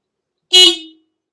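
One short, loud blast of a Denali SoundBomb Mini air horn on an Indian Scout Bobber motorcycle, a bright brassy toot lasting under half a second and then silence.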